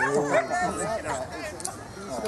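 Labrador and other dogs at a charity dog show, a few sharp close barks and yips in the first second under a busy hubbub of people chatting nearby.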